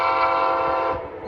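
An Amtrak train rolls northbound behind a Charger locomotive, a loud, steady roar of engine and rail noise close by that fades slightly toward the end.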